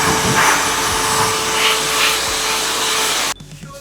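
A hair dryer blows on oiled hair, giving a steady loud close whoosh with a faint whine that cuts off abruptly near the end, leaving near silence.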